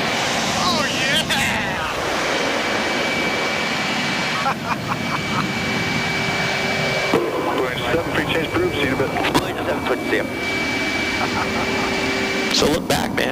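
A Blue Angels jet roars continuously in flight just after takeoff, a loud broad engine rumble with wind rush inside the cockpit and a steady tone underneath, while people talk over it.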